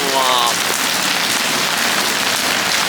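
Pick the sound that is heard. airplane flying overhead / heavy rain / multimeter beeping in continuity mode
heavy rain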